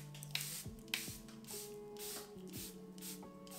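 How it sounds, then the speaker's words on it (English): A Charlotte Tilbury face mist is pumped several times close up, giving a series of quick, soft hissing bursts spaced roughly half a second apart, quiet and without talk. "So I'm just going to spray down my face with my Charlotte Tilbury."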